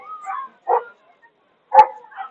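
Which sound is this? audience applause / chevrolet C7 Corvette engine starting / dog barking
dog barking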